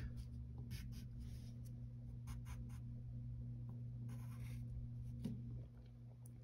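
A pencil scratches out lines on paper up close, soft intermittent strokes with quiet pauses against a faint steady hum, no one speaking.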